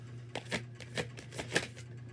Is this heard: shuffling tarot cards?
yes